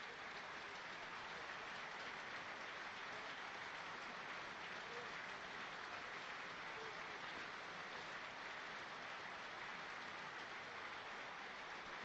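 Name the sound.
stadium crowd applauding at Stadium of Light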